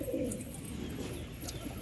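Pigeons coo softly in low, murmuring bursts while they drink water, close by against a steady background hum with no talking.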